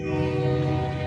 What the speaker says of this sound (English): That's a train that's going by right now.